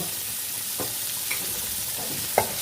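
Boiled mankochu (giant taro) pieces gently stirred in a pan over a low background sizzle, with a few soft scraping strokes and one sharper clink near the end.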